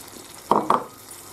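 Rice goes into a pan of fried tomato, giving two short, close bursts of sizzling and scraping in quick succession against an otherwise quiet background.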